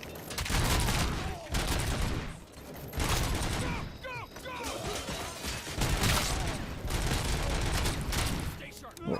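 Heavy recoiling gun fired in the video game Robocop: Rogue City, loud sustained bursts of rapid fire with short pauses between, close and dense, with someone talking faintly beneath.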